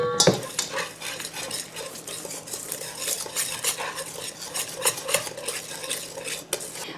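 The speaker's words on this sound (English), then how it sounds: "I'm going to temper the egg so it doesn't cook. And then just give this a good mix." Spoon scraping and clinking against a bowl as tempered egg is stirred into wheat-free, sugar-free chocolate chip blondie batter, a steady run of close, busy strokes with no voices.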